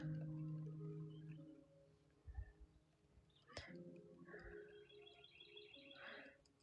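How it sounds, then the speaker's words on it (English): Birds outside a studio window in the woods give scattered short chirps and tweets, faint and distant, over soft background tones. "That's my birds chirping outside."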